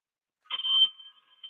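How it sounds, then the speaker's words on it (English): A phone rings inside a bag, heard as a short muffled electronic trill followed by a thin lingering tone, faint and brief with no talk over it. "The phone is ringing."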